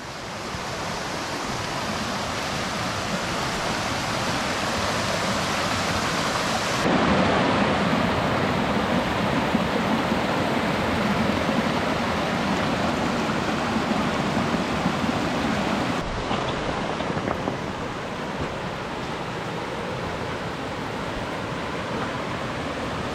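Rushing creek water at Dark Prong Falls in Pisgah National Forest, a loud, steady broadband roar close by that swells in intensity partway through and continues unbroken, with no talk.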